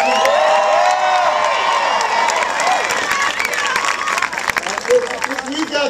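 A large rally crowd in Denver claps and cheers loudly and continuously, with whoops rising from the applause.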